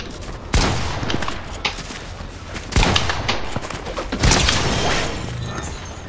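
Three loud shotgun blasts in Fortnite boom out a couple of seconds apart over a constant noisy game background.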